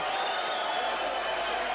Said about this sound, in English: Shower of boos from the crowd